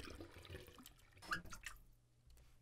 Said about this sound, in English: the water? Is the faucet busted?